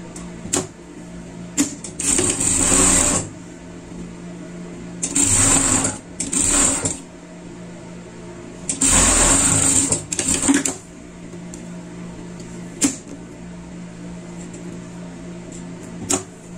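An electric sewing machine stitches fabric in several bursts of rapid, whirring runs, each lasting about one to two seconds. Quiet pauses and small clicks fall between them.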